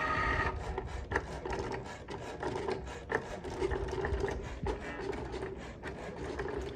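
An electronic craft cutting machine runs fast through material, a quiet, busy mechanical rasping with rapid repeated ticks as the head shuttles back and forth.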